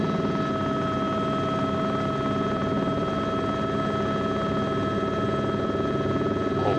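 Helicopter in flight during a training lesson, its steady rotor and turbine drone filling the cabin continuously at close range with a constant whine on top.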